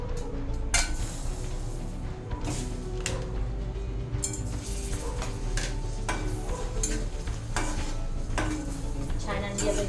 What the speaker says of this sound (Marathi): छान अंडी आपण याच्यामध्ये फ्राय करून घेतलेली आहे मसाल्यामध्ये